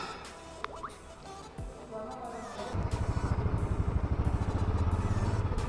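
A Royal Enfield motorcycle starts moving on the road, its loud thumping exhaust beating in a rapid steady rhythm after a quieter stretch of street noise and faint traffic.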